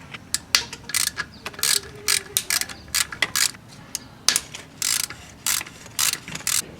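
Ratchet wrench loosening the bolts on a thermostat housing attached to a cylinder head during head gasket replacement, rapid clicking bursts in short repeated strokes with brief pauses, close and loud.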